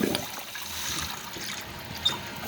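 Water rushes steadily into a toilet tank as it refills after a flapper repair, a close, continuous hiss and trickle with a small knock near the end.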